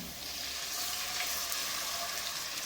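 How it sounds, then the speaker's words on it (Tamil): Steady hiss and crackle of frying in a hot pan while milk is poured in for creamy pasta, a close, continuous sizzle with faint stirring and no talk. "இப்போ கொஞ்சமாக பால் ஆட் பண்ணிக்கிறேன்."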